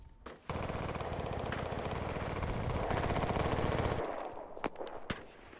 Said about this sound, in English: that is the loudest gunfire I've ever heard in my entire life